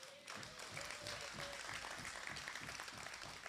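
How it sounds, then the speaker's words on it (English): Crowd applause at a New National Party public meeting honoring Olympians: continuous, fairly dense clapping with a low rumble from the gathering underneath, sustained evenly throughout. "I want us to give them a round of applause."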